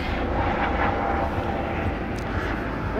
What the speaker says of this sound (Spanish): yo creo que un helicóptero